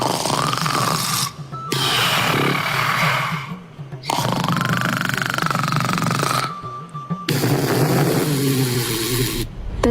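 A man sleeping in front of an air cooler snores loudly in long rasping breaths, three big snores broken by short quiet gaps, with grunting snorts near the end.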